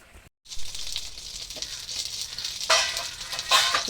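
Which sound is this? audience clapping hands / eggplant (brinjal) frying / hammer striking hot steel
eggplant (brinjal) frying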